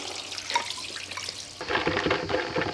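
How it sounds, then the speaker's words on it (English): Rehydrated red lentils being drained, with water pouring and splashing steadily through a strainer into a sink, growing louder and fuller after the first moments, close by and with no talk. "Gonna drain the lentils."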